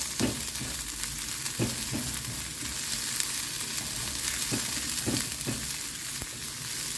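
Onion frying in oil fills the scene with a dense, even sizzle, punctuated every so often by soft knocks of stirring in the pan.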